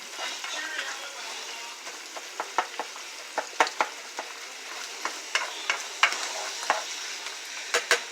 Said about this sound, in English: So my butter is starting to melt really good.